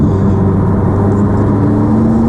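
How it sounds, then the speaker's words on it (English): Steady engine drone with rising tonal whir from a McLaren sports car accelerating between about 3,000 and 4,000 RPM, the turbo whoosh building in a continuous loud cabin sound without speech. "one other thing I absolutely love about this car is the turbo noise"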